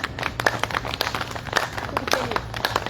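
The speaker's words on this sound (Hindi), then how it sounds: "आपकी तालियां बजाइए, आपके लिए तालियां बजाइए" A class in a group exercise session claps hands after a warm-up, the uneven, close claps mixed with voices talking over them.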